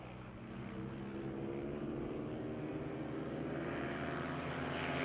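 Race vehicles in a side-by-side battle through a turn accelerate hard, making a steady, dense engine roar that holds and slowly builds over several seconds without a break.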